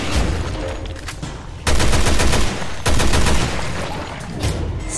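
Gunfire in the video game Resident Evil Revelations 2: loud, dense bursts of rapid shots in two sustained volleys over continuous background noise, with no talking.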